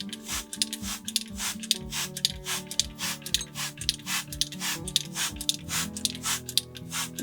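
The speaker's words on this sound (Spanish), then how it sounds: "rociar toda la parte tejida. Con un pulverizador" A hand spray bottle mists water over crocheted squares being blocked, firing a rapid string of short hissing squirts in a regular rhythm, each paired with a squeaky trigger pump, close and clear.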